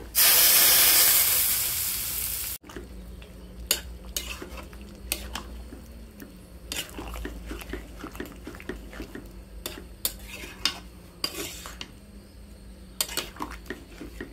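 Vegetables stirred with a five-spice tempering and bay leaf in a pan, cooked without onion or garlic: a loud burst of sizzling when the spices go in, then steady scraping and clinking of a spoon against the pan with a soft frying hiss beneath.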